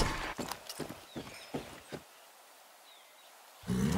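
Horse hooves clip-clopping in Far Cry 6, a horse painted with zebra stripes, about six clear, evenly spaced steps close by, then a near-silent pause before other game sound returns.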